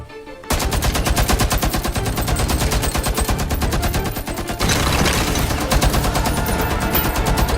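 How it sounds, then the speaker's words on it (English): Tachanka's mounted minigun in Rainbow Six Siege fires in a long, continuous rapid burst, loud and close, with a brief stutter midway before the stream of shots resumes at full pace. "That's his minigun that he uses in multiplayer."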